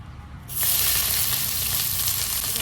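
Onions frying in plenty of oil in a home kitchen: after a half-second of quiet, a loud, dense sizzle bursts in and holds steady, close and bright, with no voices.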